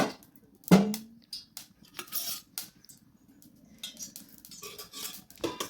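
Spoonfuls of ghee going into a pan for carrot semiya payasam: a sharp spoon clink against metal, then lighter taps and scrapes of the spoon, near and clear, without speech.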